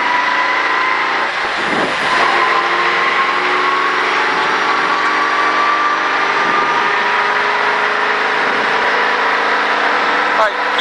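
A stock car engine on the Texas Motor Speedway oval drones loud and steady at high revs throughout, its pitch holding fairly even, with faint voices underneath.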